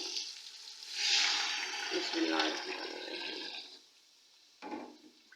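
About 1.5 litres of water is poured into a hot cooking pot with browned garlic for chicken corn soup, rushing and sizzling for a few seconds before trailing off, followed by a brief splash.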